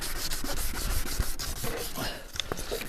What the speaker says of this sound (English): I'm just going to give these headlights a sand